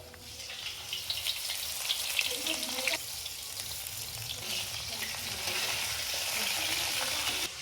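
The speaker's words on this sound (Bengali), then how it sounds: "কফি এদিকে পটল ভাজা বসিয়েছে" Pointed gourd (potol) frying in a pan, a steady dense sizzle of oil running throughout at close range, with occasional stirring scrapes and faint background voices.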